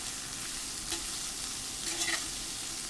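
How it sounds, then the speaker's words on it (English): Ginger stir fries in a pan, a soft steady sizzle with a couple of brief stirring scrapes, close but quiet. "let's go ahead and put all the ginger in there."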